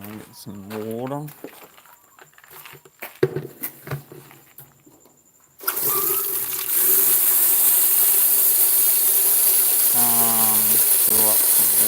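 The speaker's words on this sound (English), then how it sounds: "Fill up some water." Water gushes steadily from a tap as a container fills, a broad continuous rushing that starts abruptly midway and holds to the end, with someone talking before and over it.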